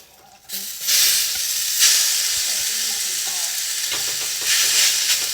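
Potatoes hit a hot pan and burst into a loud, close, hissing sizzle that holds steady, with a few clatters from a utensil.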